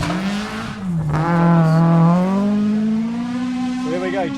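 A Toyota Corolla Levin rally car drives through a special stage at Kuri Bush in the 2019 Otago Rally, its engine note loud and near, holding steady then climbing smoothly through the revs.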